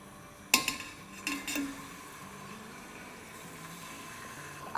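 Chicken breast pieces dropped into a steel pressure cooker in a kitchen, a few sharp metallic clinks and knocks early on, then a low steady background hum with faint scraping, no talk.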